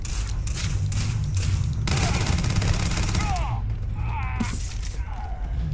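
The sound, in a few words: gunfire in the video game Starfield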